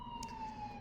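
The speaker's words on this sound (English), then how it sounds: "Sorry for the sirens." A distant emergency vehicle siren holds a faint, slowly falling tone outdoors, a brief quiet wail with no talking over it.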